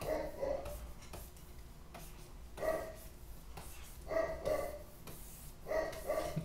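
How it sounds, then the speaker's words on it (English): A pet dog barks in the background of a home studio, a few short repeated bark bursts spaced about every one and a half seconds over a low steady hum; no talking. "You can probably hear my dog barking in the background"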